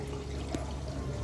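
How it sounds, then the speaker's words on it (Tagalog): Water pours and trickles steadily from the clogged drain of a Eureka automatic washing machine, a faint, continuous liquid flow with no talking. "okay na lumabas yung tubig"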